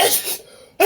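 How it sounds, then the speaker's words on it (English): A person sneezes sharply up close, a bright explosive burst followed by a short breathy tail, silence, then the start of another sneeze. "You have to sneeze."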